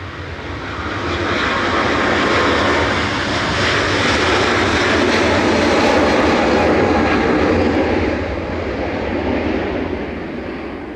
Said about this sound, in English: Aer Lingus 935's taxiing out now, so get your volume control ready.